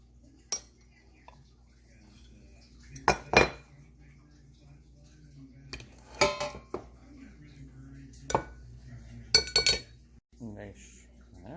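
Utensil clinks against a bowl while chocolate chip banana bread batter is mixed, with several sharp taps and scrapes spaced irregularly, close and moderately loud over quiet room tone.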